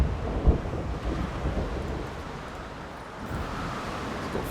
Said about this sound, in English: Seems like the worst of the storm is over though.